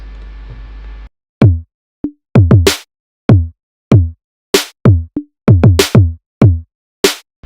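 A punchy electronic drum pattern plays alone, deep kicks layered with crisp snare hits and short bright accents in a steady, syncopated rhythm.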